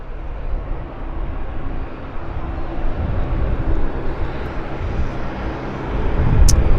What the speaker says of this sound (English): We've got aircraft lined up on runway 26 left here for departure.